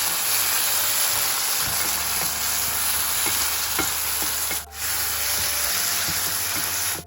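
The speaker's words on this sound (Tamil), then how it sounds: "இதை அப்படியே நம்ம பொன்னிறமாக அப்படியே வதக்கணும்" Grated coconut sautéing in an oily pan for a Tamil fish curry, a steady close sizzle with scattered small scraping stir clicks throughout and no talking.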